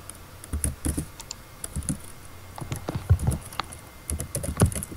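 Fast, uneven clatter of keys on a computer keyboard during a Minecraft survival game, close and steady in short bursts, with no talk over it.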